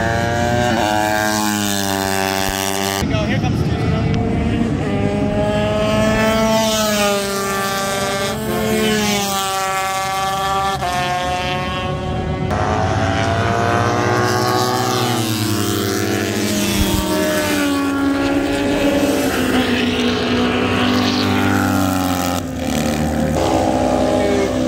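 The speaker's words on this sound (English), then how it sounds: "Two-stroke rip past that four-stroke." Vintage two-stroke and four-stroke racing motorcycles roar past on a road course at a vintage motorcycle festival, loud and close, with rising and falling engine whine, gear changes and overlapping bikes sustained throughout.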